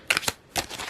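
Tarot cards being shuffled and straightened into a stack: two quick papery riffles followed by a softer rustling swipe, close and brief, with no talking.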